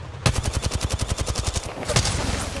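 Rapid automatic gunfire from the Apex Legends video game rattles out in a loud, steady burst of closely spaced shots, with a brief heavier blast partway through.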